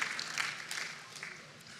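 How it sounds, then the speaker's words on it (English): Audience applause at a homecoming event for NASA Artemis II astronaut Christina Koch at NC State, a steady broadband wash of clapping across the whole stretch at moderate level. "We got some claps for Jacksonville"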